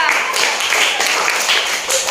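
Students in a classroom clap together after an Islamic history lesson, a short, close, fairly loud patter of hand claps with some overlapping voices.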